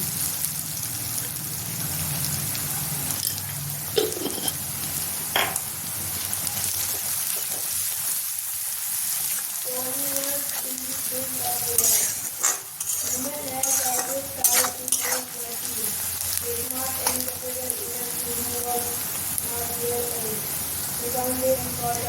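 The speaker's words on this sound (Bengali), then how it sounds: "এখানে পেঁয়াজ ভাজা হয়ে গেছে, দেখুন।" Sliced onions fry in hot oil with a constant sizzling hiss while a spatula stirs and scrapes against the pan, producing repeated clinks and scrapes close by, with no one speaking.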